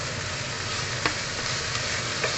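Noodles being tossed with pork in a hot pan, a steady sizzle with a few faint scraping stirs of the utensil against the pan, no voices.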